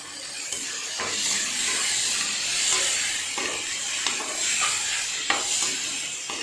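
Ginger and garlic sizzle steadily in a hot pan, a dense broadband frying hiss with occasional stirring scrapes and clicks, close and continuous throughout with no voices.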